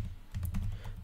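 Quick run of keystrokes on a computer keyboard while coding a Pygame top-down shooter in Python, several close, crisp taps in a short burst over low background hum.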